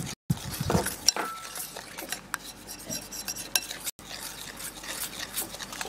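Baking soda being stirred into water for dorayaki batter, a utensil scraping and clinking against a bowl in quick irregular strokes, close and clear with no talking.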